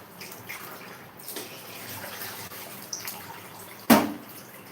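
Water is poured into cooking dal for sambar, a faint splashing trickle ending in a sharp, louder splash.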